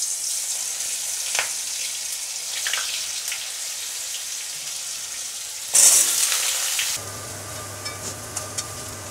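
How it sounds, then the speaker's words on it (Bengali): Eggplant pieces fry in a little oil in a pan, a steady soft crackling sizzle with scattered pops, briefly flaring louder midway as more oil spatters, then settling back under a low hum. "এবার বেগুনগুলো এতে ছেড়ে দেবো ভাজা করার জন্য।"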